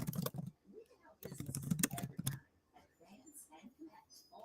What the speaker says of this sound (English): Is the typing by me kind of loud?